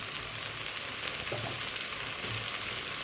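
Coriander seeds and cumin sizzling in a pan, a steady soft frying hiss with faint crackles throughout, close and alone without talk.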